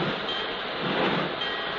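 A sound effect in an old-time radio drama of a train being backed out of a shed, a brief steady rumbling, chuffing hiss with a muffled, narrow-band broadcast quality.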